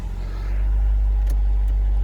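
A car engine catches and settles into a loud, steady low rumble close by, the level climbing over the first half second and then holding even.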